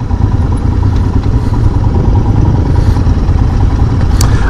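Steady engine rumble from a 2022 Royal Enfield Himalayan adventure bike while riding, a loud, even thrum under wind noise with a faint clatter near the end.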